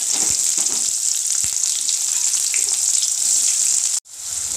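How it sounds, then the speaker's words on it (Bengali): Onions fry in hot oil with cumin, bay leaf and dried chilli, a dense continuous sizzle with occasional stirring knocks, loud and close, cutting out abruptly near the end before resuming. "তো পেঁয়াজটা ভাজা ভাজা হয়ে গেছে"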